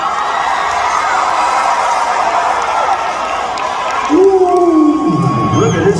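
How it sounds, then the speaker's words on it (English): A large concert crowd cheers and whoops at a show at Toyota Music Factory in Dallas, Texas, a loud continuous roar, with a voice calling out over it near the end. "Ooh, look at this crowd."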